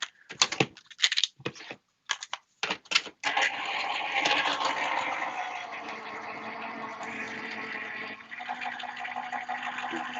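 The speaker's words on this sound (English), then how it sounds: "So let me go die cut this real quick." A die-cutting machine is cranked through with paper for a crafting project. Quick clicking bursts give way to a steady, close mechanical whir with a grinding texture that runs for several seconds.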